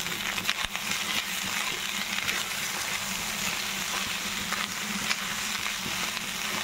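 Rice fries and is stirred in a hot pan, giving a continuous loud sizzle with scraping stirs throughout and no talking.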